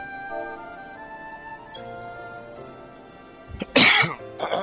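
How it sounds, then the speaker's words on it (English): A single hard, explosive cough bursts out after a quiet stretch, followed by a shorter second cough. "Did not mean to cough that hard."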